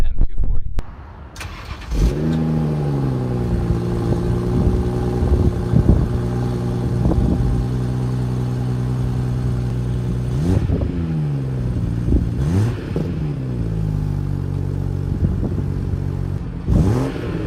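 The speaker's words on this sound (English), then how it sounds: "here is a cold start of a BMW m240" Cold start of a BMW M240i with twin exhaust pipes: the starter cranks, the engine catches with a sharp rev flare, then settles into a loud, steady high idle with a few blips of the throttle.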